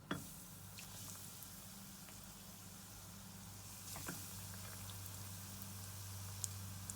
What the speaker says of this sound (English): And now we're just going to start frying them.